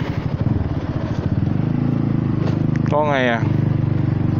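A Honda Forza 300 scooter with its exhaust baffle removed runs in a steady, loud, throaty engine drone close by, while someone talks over it.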